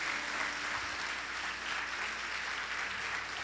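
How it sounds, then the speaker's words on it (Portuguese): A church congregation applauds in steady, continuous clapping heard from a distance, fairly faint and even throughout with no speech over it. "Pode aplaudir o Senhor ou faça com alegria."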